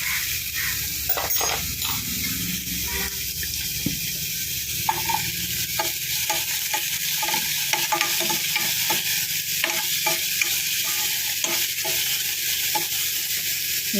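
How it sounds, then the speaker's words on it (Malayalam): Chopped banana flower being sautéed in ghee gives a continuous, fairly loud sizzle close by, with frequent scraping stirs and small clicks of a spoon against the pan. "ചില നെയ്യും കൂടി ഇട്ടിട്ട് ഇതൊന്ന് വഴറ്റിയെടുക്കാം."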